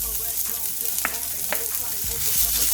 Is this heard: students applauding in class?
no